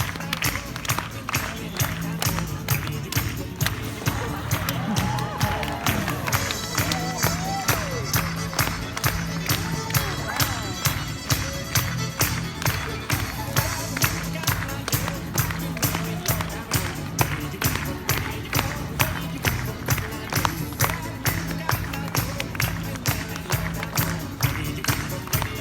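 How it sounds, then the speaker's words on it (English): An audience at a sea lion show claps steadily in time with a beat, rhythmic crowd clapping running throughout with music and occasional talk underneath. "Clap along when you guys hear the beat to help her keep the rhythm."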